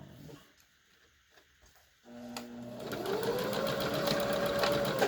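Sewing machine stitching a fabric hospital mask starts after a quiet moment, then runs steadily and loudly for about three seconds, its motor whine rising as it goes.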